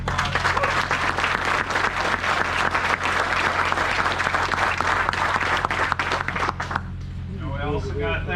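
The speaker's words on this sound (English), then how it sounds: "So let's give them a round of applause." Loud, dense applause from a crowd at a 2021 All American Kayak Classic tournament event, sustained for several seconds before cutting off abruptly, with some voices underneath near the end.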